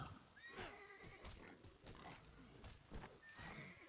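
A horse in the Titan Quest video game neighs and whinnies repeatedly amid clattering hooves and combat noises, fairly close and prominent without talk.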